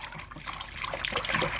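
A hand stirring soapy bath water, giving soft, close sloshing and swishing splashes that rise slightly toward the end, with no talk over them.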